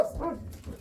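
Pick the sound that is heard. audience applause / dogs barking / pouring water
dogs barking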